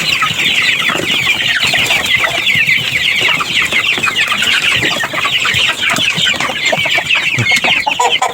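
A flock of chickens crowds around fermented rice bran feed, producing dense, continuous clucking and squawking close by with busy pecking and rustling underneath.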